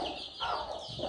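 A Sussex hen gives a brief, throaty cluck and murmur, close by and moderately loud, with no talking.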